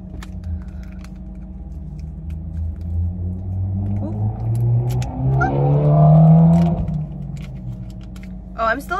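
Car engine idling with a low steady rumble from inside the cabin, swelling briefly mid-clip as if revved, with a voice speaking over it.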